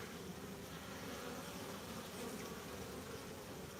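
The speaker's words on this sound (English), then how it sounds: "the bees on Hive 1 are busy bees. They're just zipping and zapping." Soft, continuous buzzing of many honeybees around a hive, a faint steady drone with no talking.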